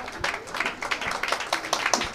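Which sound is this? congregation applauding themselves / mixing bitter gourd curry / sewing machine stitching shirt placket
congregation applauding themselves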